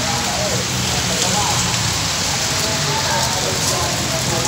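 Heavy rain pours down steadily at a roadside store where people shelter, a loud, dense hiss that fills the scene without break, with faint voices mixed in.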